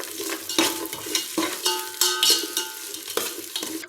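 Chopped onions fry in a pan for egg biryani, a continuous close sizzle broken by repeated stirring scrapes and clinks of a spoon against the pan.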